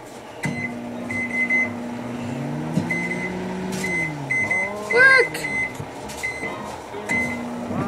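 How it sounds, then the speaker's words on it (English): A microwave oven runs with a steady low hum while cream cheese heats inside, a beep sounding over it, clattering kitchen noises, and a voice calling out briefly. "I'm gonna stick it in the microwave for like a minute"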